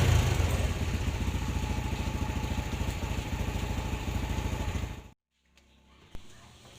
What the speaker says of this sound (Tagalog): i-road test ng ating kabarkada yung kanyang motor kung talagang okay na